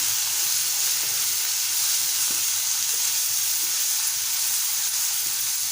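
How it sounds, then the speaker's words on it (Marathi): Tomatoes with salt sautéing in a pan, a loud, steady hissing sizzle that stays constant throughout with only faint stirring taps beneath, close and unbroken, no voice. "छान परतून घेऊया।"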